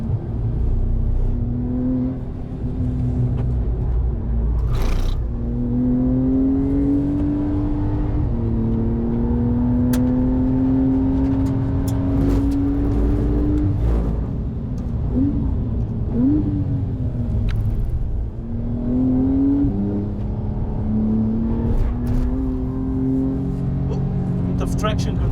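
A Porsche 992 Carrera S in Sport Plus mode at 5th gear pulls hard around Misano racetrack, its engine note rising smoothly through repeated climbing sweeps, loud and close from inside the cabin over a steady rumble.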